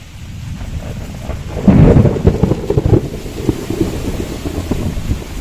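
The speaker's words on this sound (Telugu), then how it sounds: "ఉరువులు మెరుపులు కూడా మొదలైంది" Thunder rumbles during a rainstorm over an orchard. Rain hisses steadily and wind buffets the microphone, and a loud roll of thunder swells near the middle and then fades into a lingering rumble with no talking.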